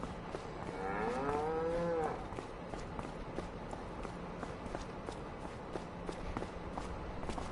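A cow moos in Farming Simulator 25, one drawn-out call lasting about a second, fairly close and clear over a steady farm ambience with faint footsteps, then only the background bed continues.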